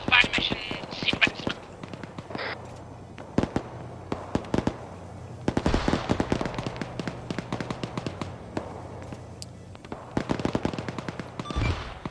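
Artillery fire mission impacts in a military video game, sharp cracking bursts in rapid irregular clusters, some near and loud, others fainter, with brief lulls between volleys and a low background hum, and voices faintly present.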